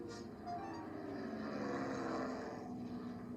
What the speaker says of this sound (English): Percy heard the airplane zooming overhead all day.